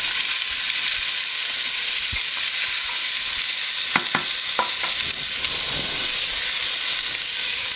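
Mirepoix vegetables sizzle in hot olive oil in a pan for a soup, a steady close frying hiss throughout with a few sharp crackles and pops midway, and no voices.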